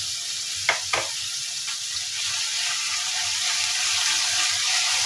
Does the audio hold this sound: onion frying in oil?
yes